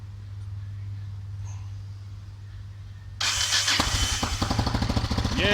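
Yamaha XT600e motorcycle engine with a newly fitted starter motor cranks and catches, then runs loudly and roughly at close range after a few seconds of low background hum.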